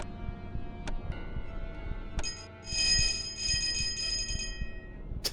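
A bell rings in a rapid, shimmering trill of metallic tones that lasts about two seconds, while a steady ticking pulse continues underneath.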